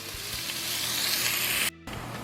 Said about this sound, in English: let me get the bacon fat rendered down a little bit